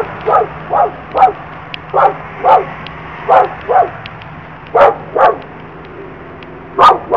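A dog barks repeatedly in short, evenly spaced bursts, fairly close, with a faint steady hum underneath and no talking.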